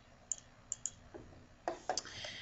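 Light computer mouse clicks while dragging a point in a math drawing program, a few sharp, quiet taps in pairs and singles over faint background hiss.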